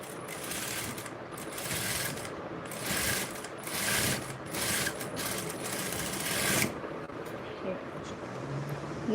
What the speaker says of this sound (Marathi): मी एकसारखी शिलाई करत असते